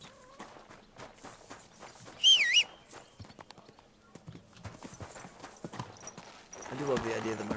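Horse hooves clip-clop in the Kingdom Come Deliverance II video game, a light, steady walking rhythm heard with a short whistle and other game sounds, and a voice speaking toward the end.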